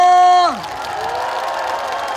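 At a donation ceremony for an elders' meal programme in Mapo, Seoul, a crowd applauds and cheers a singer. A held, falling voice opens, then a lower, steady wash of clapping and cheering carries on beneath it.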